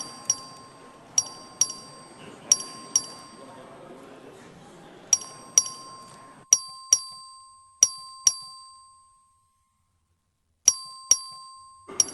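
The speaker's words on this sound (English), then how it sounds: "The clerk will ring the bell." A legislative chamber's voting bell rung by the clerk during a record vote, sharp bright dings struck one after another in irregular clusters, each ringing out briefly, while faint chamber murmur sits underneath.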